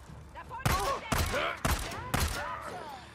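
Enemy gunfire in the zombie game Days Gone: four sharp shots spaced about half a second apart, each followed by ringing echoes, moderately loud with a faint voice underneath.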